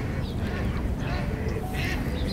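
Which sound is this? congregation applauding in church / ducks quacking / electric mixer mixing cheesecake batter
ducks quacking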